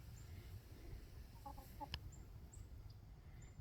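Chickens cluck softly under a shade tree, a few faint, brief clucks and calls over a low outdoor background, with one sharper tap partway through.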